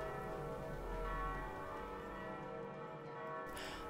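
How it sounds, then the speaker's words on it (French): Church bells ring in a spoken reading of Ursula K. Le Guin's "The Ones Who Walk Away from Omelas", with a sustained, layered resonance, their tones overlapping and humming evenly before fading at the end. "tintement des cloches."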